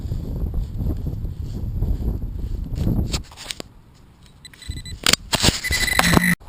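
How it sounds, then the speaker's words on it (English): Wind buffets a microphone outdoors at a metal-detecting dig, with heavy low rumbling gusts for about three seconds, a brief lull, then sharp, loud bursts of wind noise and handling knocks. "I'm not sure if I'm going to be able to be heard through this wind"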